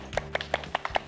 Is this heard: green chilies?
no